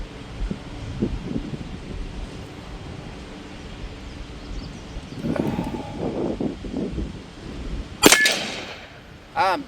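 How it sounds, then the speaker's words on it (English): A .30 caliber rifle, a Gauntlet 2 SL, fires a single sharp shot near the end, cutting through outdoor wind and rustling noise, with brief muffled speech beforehand. "I believe that was our last shot out of that magazine."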